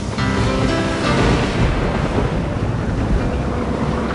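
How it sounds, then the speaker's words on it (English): A big storm at sea, with heavy wind buffeting and crashing, rushing waves, loud and continuous. "this was getting to be a really big storm"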